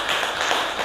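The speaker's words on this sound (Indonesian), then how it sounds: "kasih tepuk tangan" Students in a classroom clap for a classmate, a brief burst of many hands that is close, fairly loud and evenly sustained for under a second.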